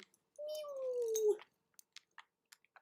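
A domestic cat gives one drawn-out meow lasting about a second, close and clear, followed by a few sharp little clicks and ticks in an otherwise quiet room.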